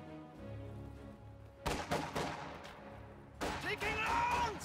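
MG42 machine gun fire in a wartime strategy game, sharp bursts of rapid shots over a low background rumble, with a second cluster of shots and ricochet-like whines near the end.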